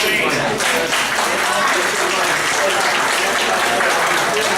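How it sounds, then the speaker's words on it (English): Applause from the audience at an outdoor summer concert, a loud, dense and continuous clapping that holds at full strength throughout, with some talking beneath it. "Round of applause for Bruce and Eileen."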